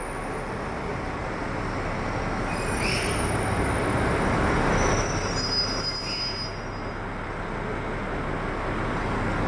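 A JR Hokkaido KiHa 261 series train bound for Sapporo rumbles steadily along the rails, with high metallic wheel squeals rising briefly over the continuous roar.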